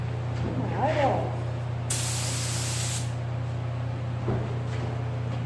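Spray gun applying a sealer coat to a car body, a loud hissing burst lasting about a second over a constant background hum, with faint voices in between.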